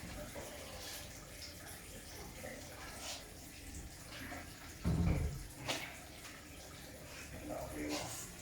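Tap water runs faintly into a container for cider making, a soft, steady trickle with a brief louder splash in the middle, while voices murmur quietly in the background.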